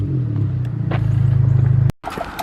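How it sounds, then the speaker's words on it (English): A loud car roars close by on a snowy road, a steady low engine rumble with a throbbing pulse that cuts off abruptly at the end. "Okay, the loud car's gone."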